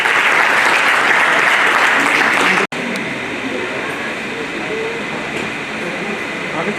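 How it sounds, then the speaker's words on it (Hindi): An audience at a retirement ceremony breaks into loud, dense applause that fills the whole stretch, with a momentary cutout partway through before the clapping carries on steadily. "साथियों, जोरदार तालियों में दोनों साहब का स्वागत करें।"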